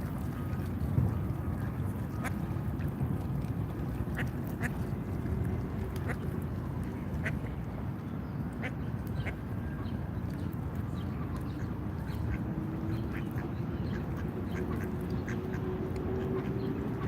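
Ducks in Washington DC quack in scattered short calls over a steady outdoor background rumble, fairly faint and spread across the whole stretch with no one talking.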